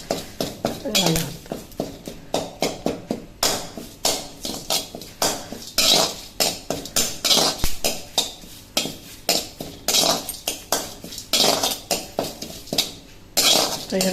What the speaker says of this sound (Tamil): இப்போ கருவேப்பிலையை தனியாக போட்டுக்கலாம். கொஞ்சம் நல்லா வறுபடணும்